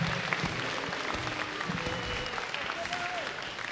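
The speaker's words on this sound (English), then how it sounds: "let's give a round of applause for HRG as well" Audience applause at a Team Fortress 2 tournament final: a dense, steady clatter of many hands clapping throughout, with a faint crowd murmur underneath.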